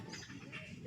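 Young pigeon kept in a cage, giving soft, low cooing calls close by, quiet and continuous over a faint background with no talking.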